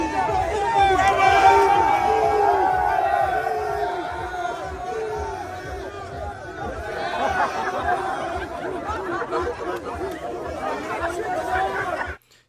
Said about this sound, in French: la police huée par la foule lors d'une intervention dite musclée